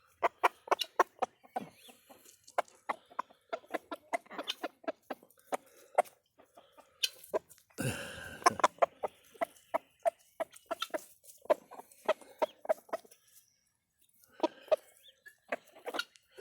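A rooster and hens cluck and peck together, with many short sharp clucks and taps in irregular bursts, a brief louder flutter or squawk near the middle, fairly close and without talk.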